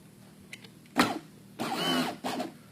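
A small 12-volt electric window motor, powered from a drill, whirs in short bursts, running briefly, pausing, then running longer and again, close by with a faint steady hum underneath, in a Model A coupe door.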